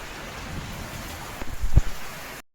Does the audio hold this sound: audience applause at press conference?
no